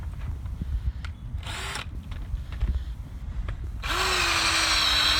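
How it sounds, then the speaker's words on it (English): A power drill bores sideways into clay soil in a garden, whirring in short bursts and then running steadily and louder toward the end, close by with no talk. "Let's just drill a little hole sideways."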